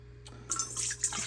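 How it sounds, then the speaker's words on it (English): Lukewarm water is poured into a bowl for cinnamon roll dough, a soft, quiet splashing trickle that starts abruptly and runs in a couple of brief surges. "all I need is 2 cups of lukewarm water"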